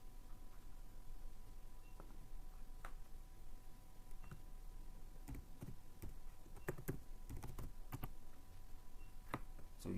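Faint, scattered keystrokes tap on a computer keyboard as a search term is entered, quick light clicks in small clusters over a soft steady hum.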